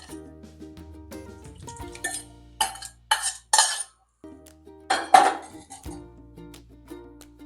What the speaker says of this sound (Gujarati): ચમચા વડે પ્રેસ કરીને ગાળી નાખશું એટલે તે ચટણી અને જે આપણે કૂછો આવે છે તે અલગ પડી જાય